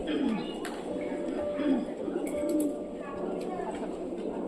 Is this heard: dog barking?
no